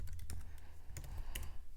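Quick bursts of key presses on a computer keyboard as a command is typed into a terminal, close and fairly quiet, in uneven clusters of clicks with no voices.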